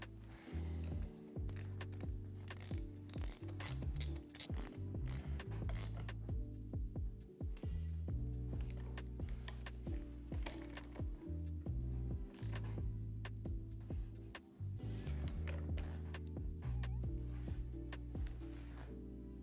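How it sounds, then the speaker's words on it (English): A ratchet clicks in rapid runs as the fork clamping bolts are tightened on a Yamaha PW50 mini dirt bike, loud and close, with repeated bursts and brief pauses and a steady hum underneath. "to get these fork ones tightened down, we're going to have to tighten down the clamping bolts on the side"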